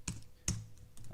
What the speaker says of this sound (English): when we're typing it into cell